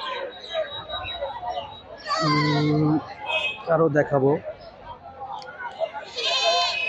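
Native goats bleat loudly at a crowded goat market, with several drawn-out, quavering cries over steady crowd chatter while someone talks nearby.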